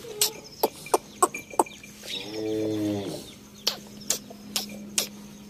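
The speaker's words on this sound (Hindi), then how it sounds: "एक तो ये मुर्गियां ना आगे से सारा जो है ना खा जाती" Backyard chickens on a farm, a rooster's drawn-out crow rising between sharp clucks and squawks, with a few more scattered calls after it, loud and close with no talking.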